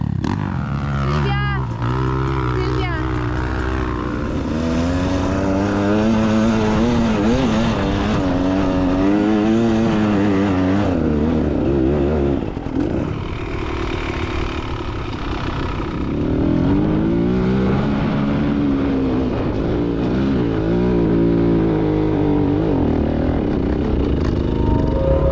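An enduro motorcycle works its way over a slag heap at Czerwionka-Leszczyny, the engine revving and straining in rising and falling bursts, close and loud throughout, with brief voices now and then.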